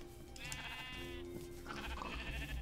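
A sheep bleating in the video game Minecraft, a short wavering baa and a second one, heard over steady game background noise.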